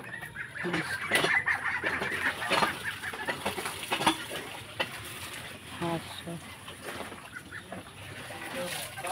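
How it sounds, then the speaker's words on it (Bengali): Ducks call from a village duck house beside a muddy courtyard, repeated nasal squawks and clucking bursts coming close and scattered, with faint voices and splashy movement underneath. "হাঁস আছে"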